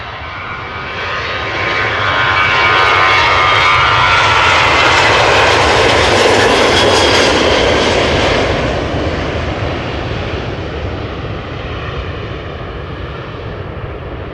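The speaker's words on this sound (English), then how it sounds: "Ryanair going to Dublin, flight 421, 737-800" A Ryanair Boeing 737-800, 17 years old, departs Amsterdam Schiphol; its loud jet engine roar swells over a few seconds, peaks, then slowly recedes into a steady distant rumble.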